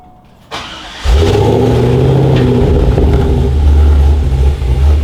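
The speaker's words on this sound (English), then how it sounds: "Now let's hook the mufflers up and see what it sounds like." A truck engine fitted with new mufflers cranks briefly and then catches, settling into a loud, deep, rumbling idle that stays steady and close.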